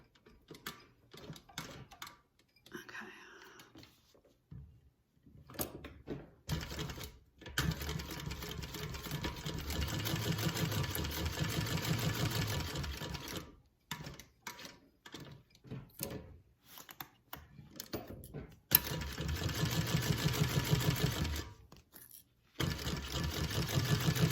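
A sewing machine stitches in several short and long bursts, with pauses between runs as the work is pivoted and repositioned, fairly close and clear with no talk over it.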